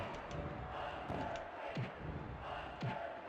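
Wrestling arena crowd in the Nintendo 64 game WWF Attitude, a continuous roaring, cheering crowd with a few dull impact thuds rising through it, at moderate loudness.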